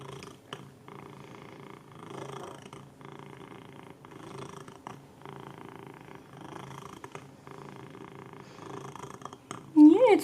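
A house cat purrs steadily up close on a table, a soft continuous rumble running under quiet background noise, with a brief louder sound near the end.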